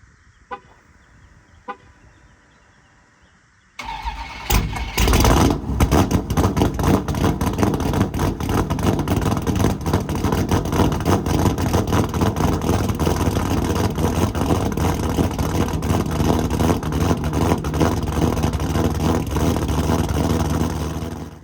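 Supercharged 426 engine in a 1200 bhp E85 Challenger cold-starting after a quiet pause, firing into a loud, lumpy, continuous idle that rumbles close and steady for over fifteen seconds.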